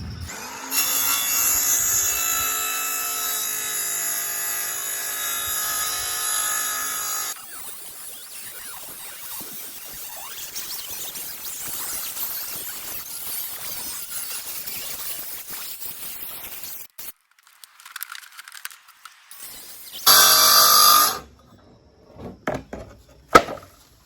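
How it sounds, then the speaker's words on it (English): A saw rips 3/4 inch pressure-treated plywood with a loud, harsh, high whine for about seven seconds. A quieter stretch of rough scraping and handling follows, then another short burst of cutting and some knocks. "When you're ripping that plywood, and that's 3/4 inch pressure treated."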